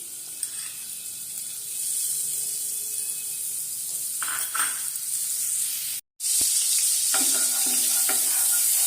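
Butter sizzles and hisses in a hot kadai on a gas stove while making paneer makhani, a steady frying crackle with a few stirring scrapes and a brief dropout midway.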